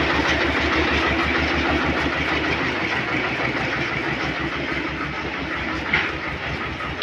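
An HMT 25 tractor engine runs close by with a steady, throbbing low chug and a dense mechanical rumble, with no talking.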